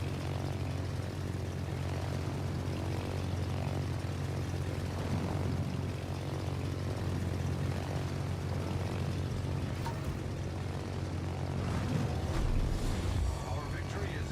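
Propeller aircraft drone steadily in the naval video game World of Warships, a low, even engine hum at moderate distance that runs throughout, with faint clicks near the end.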